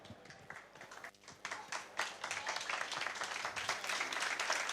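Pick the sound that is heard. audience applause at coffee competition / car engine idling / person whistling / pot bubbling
audience applause at coffee competition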